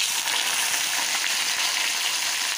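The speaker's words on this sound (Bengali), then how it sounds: "এখন আমি এর মধ্যে বেগুন আলুটা একটু ভেজে নেব।" Eggplant and potato pieces fry in hot oil with browned onion in a pan, giving a steady, close, crackling sizzle throughout with no talking.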